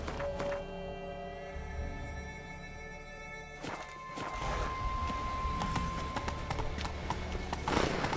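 Roach the horse's hooves in The Witcher 3 video game, a steady clip-clop running throughout over tonal game music, moderately close and continuous.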